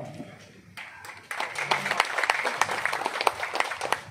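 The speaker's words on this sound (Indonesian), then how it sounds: "Tepuk tangan dong." Crowd applause at a community constituency meeting in a neighbourhood ward, starting after a quiet moment with some murmuring and then swelling into sustained scattered clapping from a moderate-sized gathering.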